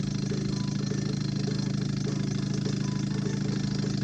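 A small Stirling engine spins a little generator motor under a light load, giving a steady, continuous low mechanical hum with a faint whirring running evenly throughout.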